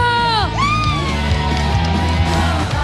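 A crowd at a lively local contest event shouts, yells and cheers loudly and continuously, with high whooping voices rising over a dense roar of people nearby.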